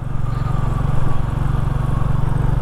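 A Royal Enfield Classic 350 motorcycle cruises through the city streets of Salvador in fifth gear with a passenger aboard, its steady low engine thump loud and continuous.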